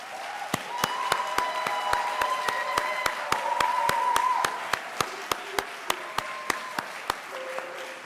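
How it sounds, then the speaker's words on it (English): An audience at a student pinning ceremony applauds steadily for several seconds, a dense wash of clapping filling a hall, with a few loud individual claps standing out. "let's give them one more round of applause"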